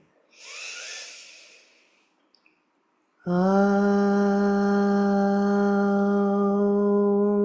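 A slow, deep breath drawn in during a morning yoga session, a soft airy inhale lasting about two seconds, followed after a short pause by a loud, steady sung Om held to the end.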